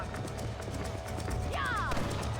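A horse running in a Western open-world video game, rapid hoofbeats drumming steadily under game ambience, with a brief rising whinny-like call near the end.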